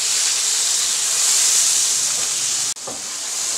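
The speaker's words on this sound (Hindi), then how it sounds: "अब हम इसके अंदर टमाटर और सारे मसाले जो हैं वो डाल देंगे और इसको अच्छी तरह से हम भून लेंगे।" Onion, garlic, tomato and spices fry in a pan with a loud, steady sizzle and hiss that holds throughout, breaking off briefly near the end before the frying resumes.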